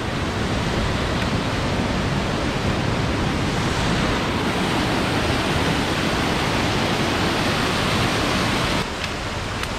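Mountain water rushes steadily along a hiking trail, a loud, dense, unbroken roar that stays constant throughout, with no voices over it.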